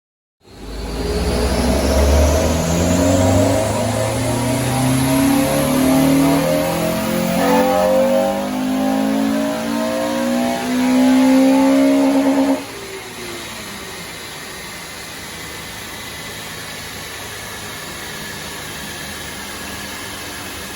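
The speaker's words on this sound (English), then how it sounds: "The majority of the noise we're going to hear from this morning is going to be the induction noise." A Honda Civic FN2 Type R engine with custom Ecutek tuning revs up hard on a dyno power run, its induction roar climbing steadily in pitch before cutting off and dropping to a lower, steady drone.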